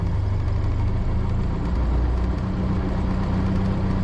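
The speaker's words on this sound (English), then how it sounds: "now at this point we're going to reduce idle" A Cessna Skyhawk 172R piston engine runs at a steady reduced idle, a loud, continuous low drone with a constant throb that holds evenly throughout, with no voices.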